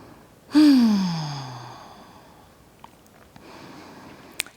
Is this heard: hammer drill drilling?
no